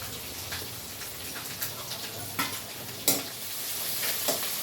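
Small chopped onions fry in a pan with a soft continuous sizzle, punctuated by scattered scraping stirs of a spoon, close and fairly quiet, with no voices.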